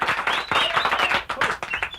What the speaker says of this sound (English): Big round of applause for Dr. Collier